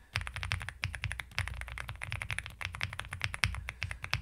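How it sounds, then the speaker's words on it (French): Rapid, crisp keypresses on a mechanical keyboard fitted with Gateron Everfree Dopamine Blue switches, a close, steady stream of poppy clicks and clacks heard alone. "On va commencer avec les Gateron Everfree Dopamine Blue qui sont fournis avec"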